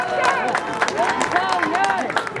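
A crowd claps at an outdoor political campaign rally in South Korea supporting a presidential candidate. Steady applause runs under voices and tonal sounds throughout.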